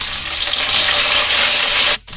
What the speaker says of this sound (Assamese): তেলখিনি সম্পূর্ণকৈ গরম হৈ গৈছে, গতিকে ইয়াত এতিয়া মই কাটি থৈ দিয়া আলুখিনি ভাজি লম